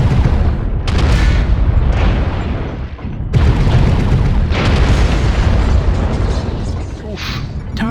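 A heavy machine gun in a mech combat game, CrashWarrior Online, fires in loud, dense booming bursts. There is a short gap near the middle, then the fire resumes even harder, with faint voices underneath.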